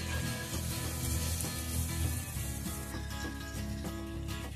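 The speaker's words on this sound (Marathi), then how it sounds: "त्यानंतर फ्राय केलेली आपण ही फुलकोबी यामध्ये घालू. ही पण छान मिक्स करून घ्यायची." Fried cauliflower tossed into a hot pan of spiced potato-cauliflower curry base, sizzling steadily throughout with repeated clinks and scrapes of a spoon stirring it in, close and loud with no talk.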